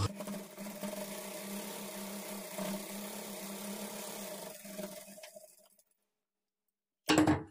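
An electric sewing machine stitching a blouse for a kids' lehenga, a steady mechanical whir with a low motor hum running for about five seconds, winding down into silence before a brief loud burst at the end.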